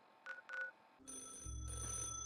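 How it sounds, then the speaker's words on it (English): A phone ringing in the video game Fallout, a short electronic double ring followed by a sustained trilling tone over a low game hum, with no one talking. "The phone is ringing."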